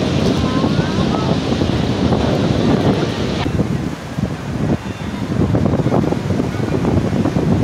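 Sea waves wash onto the shore at Digha beach in a constant loud roar, heavy wind buffeting the microphone, with people talking nearby over the surf.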